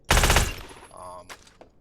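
A submachine gun fires in the game Badlanders, one quick loud burst of rapid shots that cuts off within half a second, leaving a brief ringing tail.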